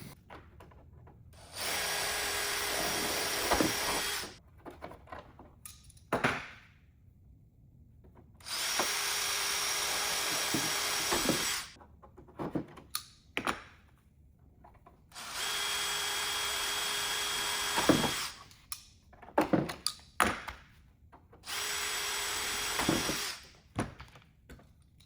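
Power drill boring holes in the cowling of a RANS S-21 aircraft, four sustained whining bursts of a few seconds each, close and loud, separated by quiet gaps with small clicks and handling knocks.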